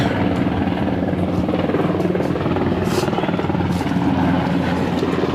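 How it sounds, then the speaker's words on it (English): Steady, loud helicopter rotor drone with a low chopping throb, continuous throughout and fairly close, with faint background noise. "Helicopters."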